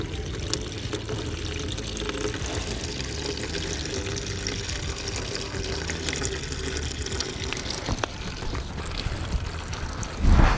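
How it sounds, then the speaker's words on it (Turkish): Old antifreeze coolant drains steadily from a Yamaha motorcycle radiator, a continuous pouring, splashing trickle that runs unbroken and fairly close, ending with a brief louder bump. "Açtığım gibi eski antifriz, eski radyatör suyu boşalmaya başladı."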